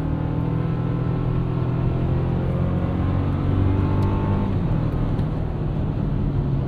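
A 2024 Toyota Tacoma TRD with an 8-speed automatic accelerates in a steady, droning engine note that climbs gently in pitch, heard from inside the cab as a continuous, moderately loud hum with no talking.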